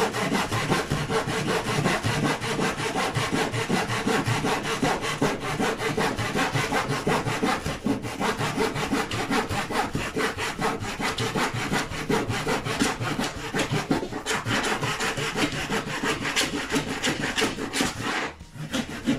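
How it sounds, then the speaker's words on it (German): A small hand saw cuts through thin wood on a large DeAgostini Fokker Dr I model airplane kit, giving a close, steady back-and-forth rasping that runs unbroken for nearly twenty seconds before a brief pause near the end. "Gerade an den Seiten können wir auch eine Säge ansetzen und das würde genauso funktionieren."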